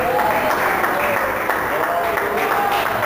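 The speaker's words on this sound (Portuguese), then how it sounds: "Dê uma salva de palmas misturado com glórias a Deus e aleluia." Church congregation claps in a dense, continuous burst of applause, with voices crying out over the clapping throughout.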